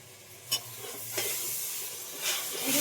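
A tomato and onion paste sautéing in a pan for a curry, with a soft steady sizzle and a few sharp scraping stirs of a spoon against the pan.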